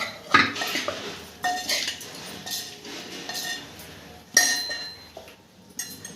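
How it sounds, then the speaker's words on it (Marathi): Spoon clinks and scrapes against a metal bowl while mixing sabudana khichdi ingredients, with several sharp taps and softer stirring in between, close up and without talk. "हे छान मिक्स करून घ्यायचं"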